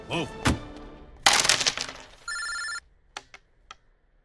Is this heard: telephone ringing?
yes